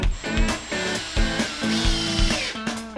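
A power drill drives 2.5-inch wood screws into a wooden farmhouse bench, in several short, loud whirring bursts with brief pauses between them, close by.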